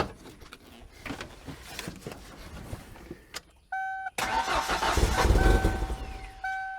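Mechanical clicks and rustling give way to an old 1994 Ford Ranger truck engine cranking loudly with a rough, labored churn, accompanied by a steady chime.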